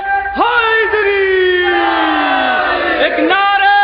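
A crowd at a Jashn-e-Abbas religious poetry gathering in Karbala, Barabanki, shouts the Haidari slogan in unison. The response is loud, drawn-out and strongly voiced, rising at the start and swelling again near the end.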